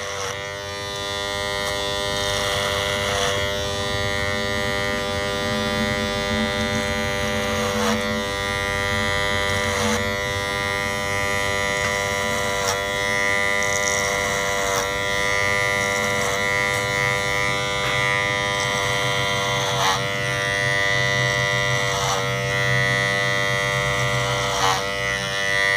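Electric hair clippers cut a person's hair at close range, holding a steady, continuous buzzing drone with small shifts in pitch as the blades move through the hair, and no speech over it.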